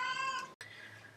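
A pet cat gives a single drawn-out, plaintive meow close by, followed after a brief cut by a quieter muffled tail of sound.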